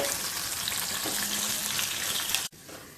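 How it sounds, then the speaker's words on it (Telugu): Crushed garlic and dried red chilli pieces fry in oil with a loud, steady sizzle that cuts off abruptly, leaving a quieter hiss for the final moment. "చితక్కొట్టుకున్నటువంటి వెల్లుల్లిపాయలు, ఎండుమిరపకాయ ముక్కలు వేసి వేయించుకోవాలి."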